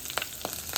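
Curry leaves, green chilli and ginger frying in hot oil for a shavige bath, soft crackling sizzles popping in a few short bursts, close and quiet.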